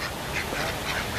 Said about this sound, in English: Look at the white duck.